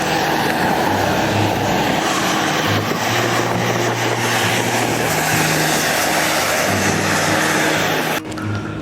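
A loud, steady roar of an airliner cabin in flight en route to Vancouver, with a low engine drone and broadband rush that stop abruptly near the end.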